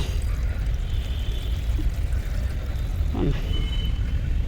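Water pours steadily onto a potted drumstick plant on a terrace garden, a continuous close splashing rush that holds level throughout, with a short voiced sound near the end.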